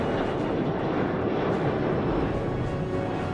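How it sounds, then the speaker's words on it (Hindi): Fixed-wing airliner cleared for takeoff from runway 25 left, its jet engines producing a loud, steady broadband roar that holds unbroken at close range throughout. "line up runway 25 left, wind 270 degrees 10 knots. Royal 3 Charlie departure level 70, runway 25 left, clear for takeoff."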